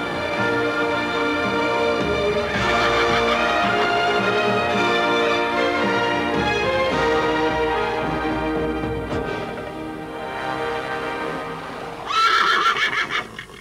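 Horses at a horse market in Kuringen, Hasselt, whinny and neigh repeatedly amid a busy crowd din, with clip-clop of hooves and a loud burst of neighing near the end.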